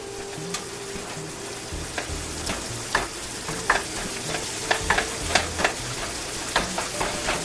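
A stuffed bell pepper filling of ground meat and spices, including oregano, is mashed and stirred in a pan, making a steady sizzle broken by repeated scraping and tapping strokes of the utensil.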